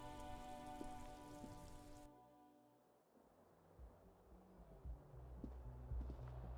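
Rain falling in the video game Disco Elysium, a steady soft patter on surfaces with occasional heavier drops and faint footsteps, low in level after a musical passage cuts off, with no talk.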